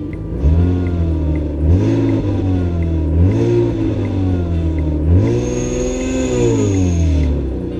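A BMW E39 engine revs loudly and repeatedly up and down, with the revs falling slowly after each rise, suggesting a boost or vacuum problem. The car is recorded close up, with no talk.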